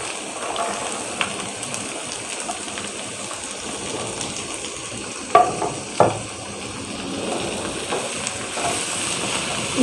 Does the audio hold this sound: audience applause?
no